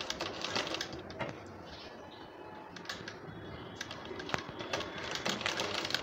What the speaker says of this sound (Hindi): ये हमारी दूसरी सिलाई लग रही है।